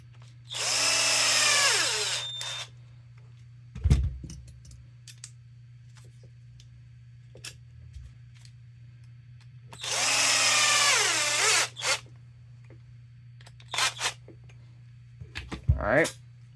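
A power drill/driver spins up in two loud bursts of about two seconds each, used while driving screws during a Losi 22S RC car build with a mid-motor conversion, with light clicks and handling noises between runs.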